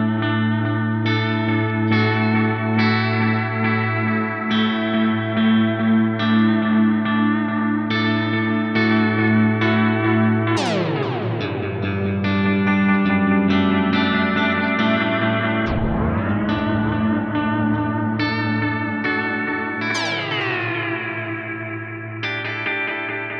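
Electric guitar through an Axe-Fx tape-style time warp preset: sustained chords washed in echo and chorus, with several swooping pitch bends where the tone warps up and down, loud and alone.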